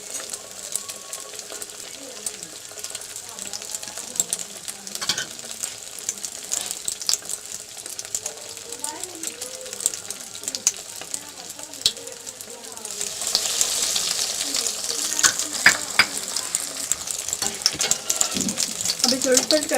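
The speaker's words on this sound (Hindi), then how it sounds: "बस फ्राई कर लें।" Potato and egg kababs fry in a pan with a steady crackling sizzle that grows louder and brighter partway through, broken by light clinks and stirring. A voice speaks faintly beneath it.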